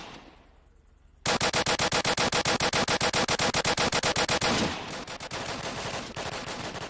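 A PPSh submachine gun fires a long rapid automatic burst in the Apocalypse Rising game: loud, evenly spaced rattling shots for about three seconds, then quieter scattered shots trailing off.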